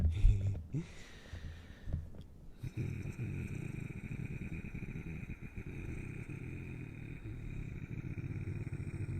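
A voice imitates an idling engine with a steady, low rumbling purr that runs continuously after a brief pause near the start.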